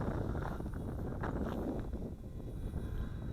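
Steady wind buffeting an outdoor field during a flight of an FX808 Red Baron Flybear RC airplane, a constant low rumble against the microphone with no voices.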